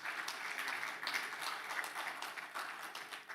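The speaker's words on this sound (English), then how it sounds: "we need to give a second round of applause to our president" Audience applause at a scientific conference, a dense, steady wash of many hands clapping at moderate loudness for the whole stretch, with no speech over it.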